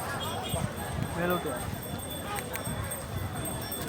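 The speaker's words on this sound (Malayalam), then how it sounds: "കുതിര സവാരി ഇവിടെ നടക്കുന്നുണ്ട്" Horse giving rides at Kollam beach after rain, with faint clip-clop of hooves under steady outdoor noise while someone talks over it throughout.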